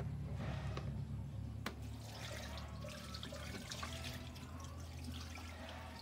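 Water runs steadily from a tap, a faint continuous splashing with small drips and a quiet knock, heard alone at a distance.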